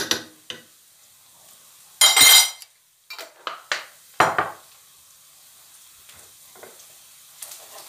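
Potatoes sautéing in a pan in a home kitchen, a faint sizzle under sharp utensil scrapes and clanks against the pan, several bursts of stirring spread across the span, no talk.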